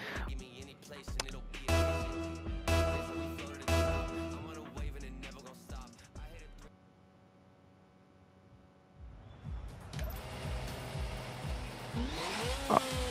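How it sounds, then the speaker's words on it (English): Engine of a Formula 1 car in the F1 2022 video game, rising and falling through revs with shifting tones, loud at first, dropping to a quiet hum, then surging again. "There's the engine sound."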